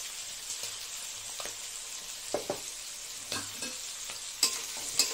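Green peas frying with salt in a pan give a soft, steady sizzle, broken by a handful of sharp scrapes and taps as they are stirred at close range.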